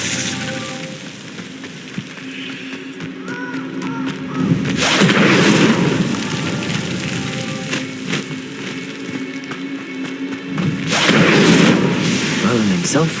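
The Incendio fire spell in Hogwarts Legacy bursts out twice as loud, crackling whooshes with booming impacts, each followed by a sizzling, fading fire.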